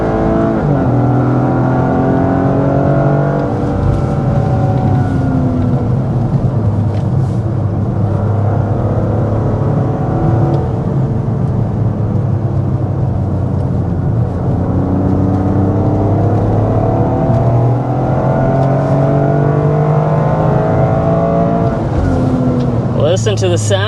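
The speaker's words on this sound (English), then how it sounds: "Listen to the sound of that 3-cylinder" A 2025 Toyota GR Corolla's 300-horsepower three-cylinder engine accelerating hard on a racetrack, a loud continuous drone rising and falling in pitch through repeated gear changes, with a voice speaking over it.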